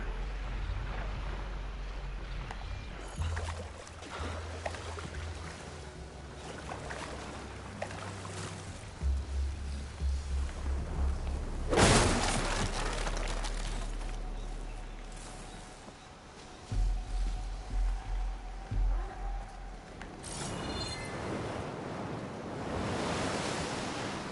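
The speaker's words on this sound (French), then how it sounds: "le vent est plus fort ici, ça me plaît" Strong wind gusting across an open area in the game Horizon Forbidden West, a steady noisy rush with surging bursts and a louder swell midway, no talking.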